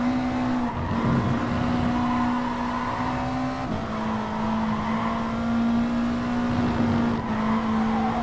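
GT3 race car in an online Gran Turismo Sport race, its engine holding a steady high drone with a sustained tire squeal as it slides through corners, no talk.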